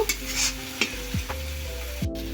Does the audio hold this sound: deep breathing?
no